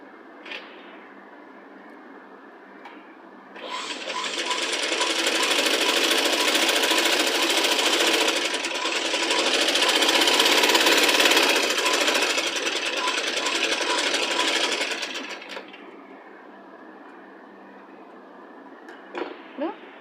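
Sewing machine stitching a folded hem on a small child's Punjabi dress top: a loud, fast, close mechanical whir runs for about twelve seconds, then stops, with a quiet hum and faint handling before and after.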